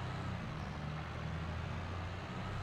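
A tractor engine in Farming Simulator 22 drones at a steady low idle, quiet and continuous with no talk.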